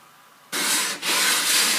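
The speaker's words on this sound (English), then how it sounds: "it would be best to use a round file like this. And yes, so just file it out." Round file rasping across wood while shaping a wooden buckler, a steady close scraping that starts abruptly after a quiet half second and continues with one brief dip, no talking.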